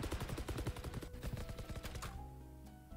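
Guardian gun fire in a shooter video game, a dense burst of rapid, loud repeated shots for about two seconds, then a quieter stretch of lingering game ambience with tonal hum.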